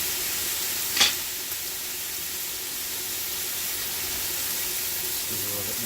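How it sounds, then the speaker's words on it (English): Shrimp frying in a hot pan with lime, a steady soft sizzle hissing throughout, with one brief sharp clink near the start and a faint voice at the end. "Fry that shrimp up. Want to get the shrimp nice and pink."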